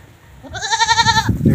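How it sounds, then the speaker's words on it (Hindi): Village goats bleat loudly and close, one long wavering call followed by a rougher bleat. "हमारी गंदी बकरियां, चुप ही नहीं करती सारा दिन।"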